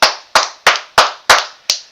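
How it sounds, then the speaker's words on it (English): Six sharp, evenly spaced claps ring out alone, forming a brief round of applause for a basketball conference with two teams in the Final Four. "that's a round of applause to the Big Ten Conference"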